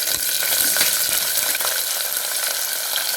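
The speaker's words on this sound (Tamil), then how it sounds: "இப்போ வெங்காயம், தக்காளி எல்லாத்தையும் போட்டு வதக்க போகிறேன்" Onions and tomatoes for an idli dhal sautéing in a pan, a continuous bright sizzle with faint stirring clicks, close and steady with no voices.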